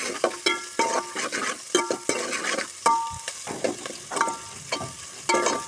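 Onion, mustard seeds, cumin and green chilies frying for a brinjal dish, sizzling steadily while a spoon stirs and scrapes the pan in repeated, irregular strokes, close and clear with no talking.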